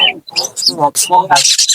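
Caged baby birds at Meradia bird market chirp in quick, bright bursts, several close calls overlapping with short gaps between them.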